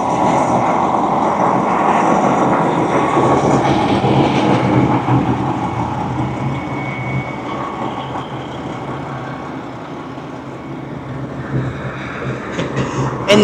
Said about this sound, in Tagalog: So, tumigil yung train dito sa Shibets.